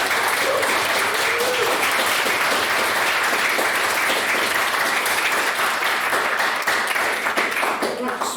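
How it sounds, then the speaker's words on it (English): Sustained audience applause at a formal debate on national security versus individual liberty, dense and steady for about eight seconds with a faint trace of voices underneath. "Another round of applause for what Miss Sweeney's made the speech."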